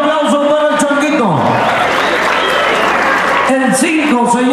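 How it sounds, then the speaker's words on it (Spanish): Crowd applause and cheering at a rodeo fair in Pololcingo, Guerrero, a loud, dense wash of clapping swelling between bursts of an announcer's voice over a PA. "regáleme el aplauso para el Changuito."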